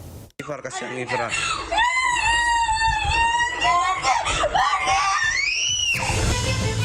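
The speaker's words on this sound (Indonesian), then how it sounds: "namun korban terus menjerit ketakutan" A young girl screams in fear, high wavering wails rising and breaking over several seconds, loud and close, with other voices and sobbing sounds in the background.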